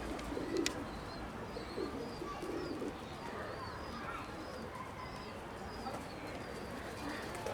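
Soft, low pigeon cooing repeats in a slow rhythm against a hushed outdoor background, with faint chirps of other birds.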